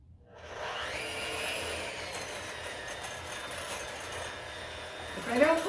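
An electric beater whisks pepper into eggs, making a continuous whirring motor hum that starts up quickly and runs steadily, with a few louder scraping knocks right at the end.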